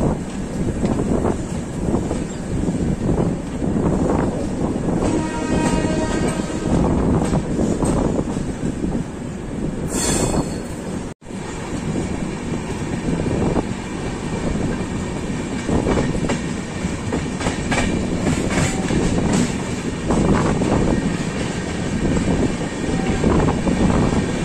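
The Golden Temple express train, Mumbai Central to Amritsar, gathers speed near Mahalakshmi station, a steady loud rumble and clatter of wheels on rails with wind buffeting throughout and a brief dropout midway.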